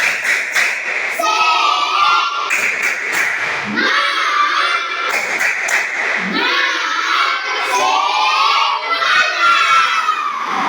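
A classroom of children shouting a rhythmic chant in unison, punctuated by sharp bursts of group clapping, loud and close.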